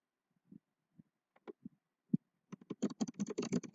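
Typing on a computer keyboard, beginning as a few isolated keystrokes and building into a quick, steady burst of clicks, close and alone with no talk.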